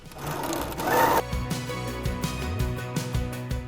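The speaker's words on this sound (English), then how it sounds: "I'm gonna start at the top here. I'm gonna back stitch." A sewing machine back stitches a quilted tote bag panel: a close, rapid mechanical whir gives way to a run of evenly spaced clacking stitches, loud and without voices.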